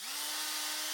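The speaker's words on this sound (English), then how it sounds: "I think the drill will do the job as well" A power drill spinning up as it drills out a bolt hole for mounting a light on a 2019 Ram Rebel pickup, a quick rising whine that settles into a steady motor hum, close and alone.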